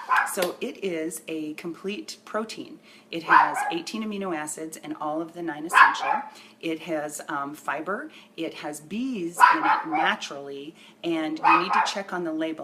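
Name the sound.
dog barking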